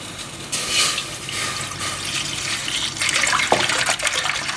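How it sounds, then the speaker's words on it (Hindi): A liter of milk pours into a cooking pot in a steady, fairly loud rushing splash that swells partway through, with no talking. "वन लीटर दूध इसके अंदर जाएगा।"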